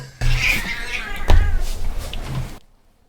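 A pet cat meows and struggles while being lifted off a desk of notes during a podcast recording, with scuffling and a few yowls in a short close burst that cuts off abruptly.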